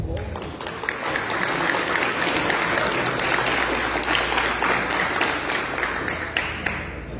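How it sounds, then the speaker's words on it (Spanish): A crowd at an event claps steadily, a thick continuous wash of many hands that holds an even level for about seven seconds, with faint voices underneath. "Un aplauso para Andrés Felipe."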